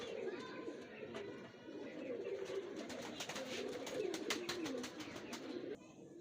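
Soft pigeons cooing in a steady low warble, with clicks and rustling over a busy background; the cooing continues throughout, fairly close.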